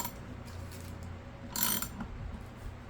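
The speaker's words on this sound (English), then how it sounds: "Now we're gonna just ratchet it down now." A ratchet wrench cranks down on a stuck pedal drive of a kayak propeller drive, giving soft clicking mechanical turns with one louder, brief grinding burst midway, close and without speech.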